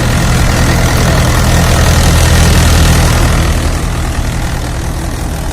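A tractor engine idles loud and close after its radiator was cleaned, a steady rough diesel rumble with a dense low thrum that holds unbroken throughout.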